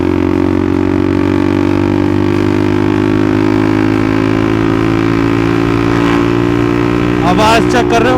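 A Bajaj Pulsar NS400Z motorcycle idles and revs through its aftermarket exhaust, loud and close, with a steady rumbling engine tone and a sharper rev at the end.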